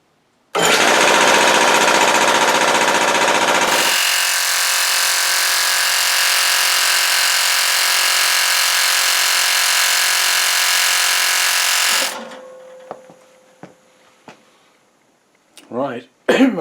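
A warm-cylindered air compressor runs loudly and steadily, with a harsher burst at start-up before settling into a constant drone that then cuts off, leaving a few clicks and knocks.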